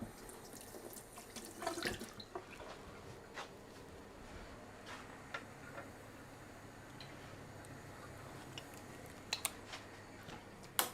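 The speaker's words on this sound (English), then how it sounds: "Find my little spoon. Give it a rinse." Running water from a kitchen tap as a small spoon is rinsed during home cooking of a roast chicken dinner, a steady faint stream with a few light clinks and drips, no talking.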